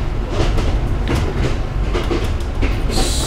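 The Spirit of the Outback passenger train, running from Brisbane to Longreach, rolls steadily around a curve with a continuous low rumble and faint rhythmic clacking, ending in a brief high squeal of wheels.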